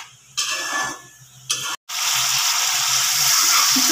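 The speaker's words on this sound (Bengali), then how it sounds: "মশলাকে ভালো করে কষিয়ে নেব" Spice paste for a fish-head moong dal fries in oil in a pan, a loud steady sizzle broken by short bursts of stirring and scraping, then continuous frying.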